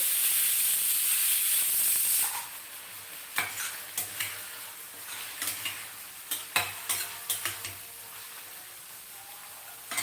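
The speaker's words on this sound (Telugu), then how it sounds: "అండ్ అలాగే కరివేపాకు మనం బాగా వేయించాలి" Curry leaves fry in a pan, opening with a loud burst of sizzling that drops to a quieter crackle, broken by a string of sharp stirring scrapes and clinks close by.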